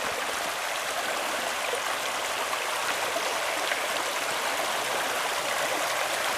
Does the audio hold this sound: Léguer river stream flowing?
yes